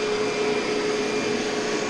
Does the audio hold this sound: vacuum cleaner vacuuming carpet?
yes